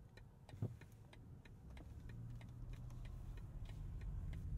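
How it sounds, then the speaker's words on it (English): Turn signal on a BMW XM plug-in hybrid ticking at a steady, even rhythm, soft and close inside the cabin over a low hum of the moving car. "Turn signal sound."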